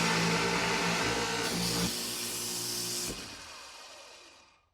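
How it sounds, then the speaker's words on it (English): Hinge cup boring machine drilling a cabinet door, a loud, steady motor whine with a burst of air blowing out chips before the machine spins down to quiet. "This machine's nice. It blows out the hinge cup hole, and it has an inserter for press-in hinges."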